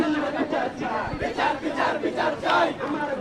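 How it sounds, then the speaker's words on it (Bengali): A large crowd of students chants slogans in rhythmic, roaring waves at TSC, the mass of voices loud and close with repeated surges and no single speaker standing out. "সেই কর্মসূচি বাস্তবায়ন করতেই কিন্তু ইতিমধ্যে এখানে স্লোগান হচ্ছে টিএসসিতে।"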